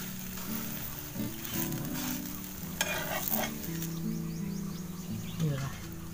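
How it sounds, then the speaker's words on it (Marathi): Dhirde, savory gram-flour pancakes, roast crisp on a hot pan in a home kitchen, a steady close sizzle running throughout with a few brief scraping stirs, while someone speaks over it. "चांगलं अशा खरपूस भाजून घ्यायच्या।"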